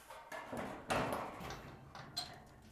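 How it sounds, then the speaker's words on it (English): A rack door being fitted onto spring-loaded hinges, giving several soft clunks and rattles followed by a louder mid-clip thud and a few lighter clicks, all close and fairly quiet. "installing the door is very simple. You just use these spring-loaded hinges."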